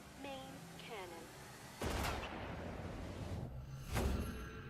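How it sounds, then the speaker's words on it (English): Main cannon fire in RuneScape 3, two heavy booming blasts with broad rumbling tails, the second louder, following brief synthetic chirps. "Firing main cannon."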